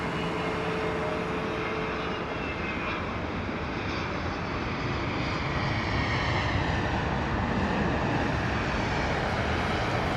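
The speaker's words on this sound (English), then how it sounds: "Listen to British Airways 353 A320 Neo coming in from Nice." A British Airways Airbus A320neo arriving from Nice at Heathrow, its broad engine roar loud and steady throughout with a slowly shifting tone and no talk.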